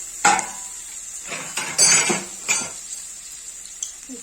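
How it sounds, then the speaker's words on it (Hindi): Ginger garlic paste tipped into a metal pan for an egg curry and stirred, with a few distinct clanks and scrapes of a spoon against the pan spaced over several seconds, close and clear. "ये अदरक लहसुन का पेस्ट है। इसको इसमें डाल देंगे।"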